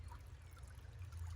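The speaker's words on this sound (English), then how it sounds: "try and get as much water as I can in there, trying to filter it out as much as I can" Stream water trickling and gurgling into a container while being collected for filtering, a soft continuous low babble close by with no voices.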